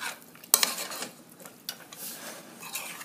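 A chicken and broccoli casserole mixture with pepper is gently stirred in a bowl, giving soft, close scraping and squelching rubs with one sharp clink of a utensil early on, no talking.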